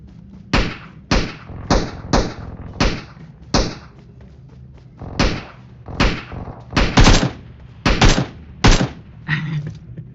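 Video game gunfire, a run of about a dozen loud, sharp single shots spaced unevenly, each with a short decaying tail, some in quick pairs.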